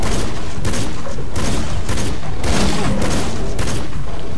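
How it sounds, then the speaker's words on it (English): Shotgun blasts in the hunting game Cabela's Dangerous Hunts 2013, several heavy booming shots at roughly half-second intervals, loud and close over a dense, constant roar. "Shotgun."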